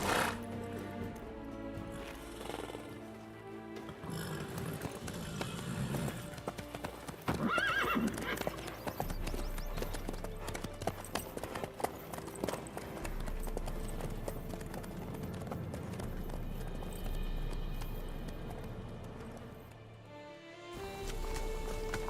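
A horse gallops in The Witcher 3 video game: a steady, close clip-clop of hooves runs throughout, with a whinny and a faint layer of game ambience beneath.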